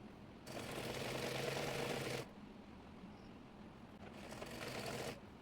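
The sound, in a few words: sewing machine stitching the side seams of a chemise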